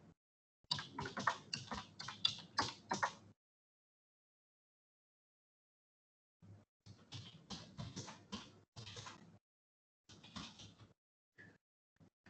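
Fingers type on a computer keyboard in bursts of quick clicking keystrokes, separated by long silent pauses, close and fairly quiet with no voices.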